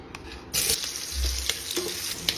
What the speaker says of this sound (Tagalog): Cooking oil. Lutuin natin yung hotdog.